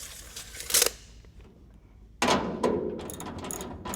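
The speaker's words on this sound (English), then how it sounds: "go ahead and tighten down your bolts" Bolts being tightened down on the bed of a 1967 Chevy C10 pickup: two bursts of ratcheting, clicking metal work separated by a quiet gap, close and fairly loud, with no talking.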